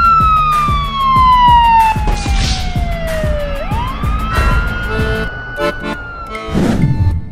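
A police car siren wails loud and near, sweeping down in pitch and then rising again over steady traffic noise on a road during a traffic dispute.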